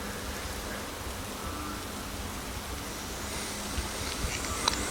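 Rain falling steadily in the background as an even, constant hiss of drops, moderately loud and without pause, with no voices.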